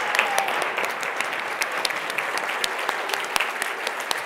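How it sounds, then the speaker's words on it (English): Conference audience at an education summit panel gives a sustained, loud round of applause, dense clapping from many people filling the room evenly for several seconds. "Round of applause for these wonderful people."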